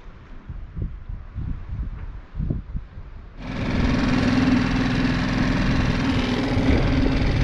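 Dinghy outboard motor on Catalina Island waters; after a few seconds of low knocking and handling noises, the engine starts abruptly and runs at a steady, loud, close drone with a constant hum.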